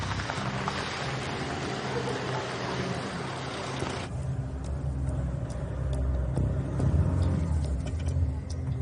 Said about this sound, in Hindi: अहमद मैं गाड़ी रोकता हूँ।